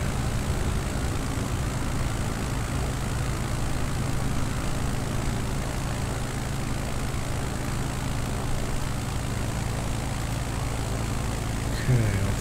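A light aircraft's engine drones steadily in flight in Microsoft Flight Simulator 2020 on a Nevada bush trip, a constant low hum with a propeller buzz that stays even the whole time and ends with a faint thump.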